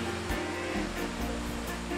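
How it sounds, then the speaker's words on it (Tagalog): Sea waves wash in a steady, full rush of surf, heard close with no talk. "alon ng dagat."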